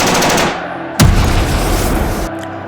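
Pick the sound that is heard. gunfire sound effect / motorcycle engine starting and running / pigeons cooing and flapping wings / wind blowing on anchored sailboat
gunfire sound effect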